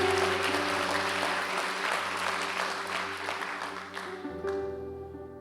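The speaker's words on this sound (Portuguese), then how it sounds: "Não, se vai aplaudir, aplauda como crente." A church congregation claps over sustained keyboard or organ chords, and the applause is fairly quiet and slowly thins out over about five seconds while the chords carry on.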